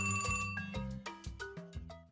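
A telephone rings in a village panchayat office in the morning: a loud, close electronic ringtone of rapid, stepping melodic beeps that plays steadily throughout with no speech.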